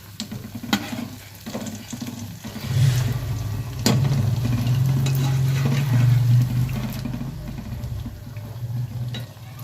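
Athirasam, a sweet South Indian snack, deep-frying in moderately hot oil makes a close, steady bubbling sizzle. It swells louder midway, with occasional clinks and stirring scrapes from the pan.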